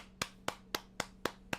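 Six sharp, evenly spaced hand claps ring out in a steady rhythm, each a crisp close slap with a short decay and quiet gaps between them.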